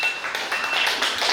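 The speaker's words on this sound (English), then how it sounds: "Give him a big round of applause." An audience at a community program claps together, a dense, even patter of many hands that fills the whole short stretch at steady loudness.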